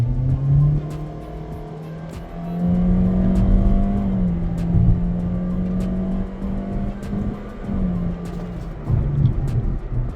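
A 2026 Toyota Corolla Grande X or Jaecoo J5 Premium HEV accelerating from a standstill to 100, its engine droning steadily through several upshifts, heard loud and close from inside the cabin with no talking.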